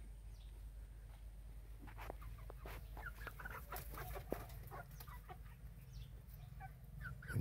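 Chickens in a hen house give soft, repeated clucks and short calls at a moderate distance, faint over a low steady hum.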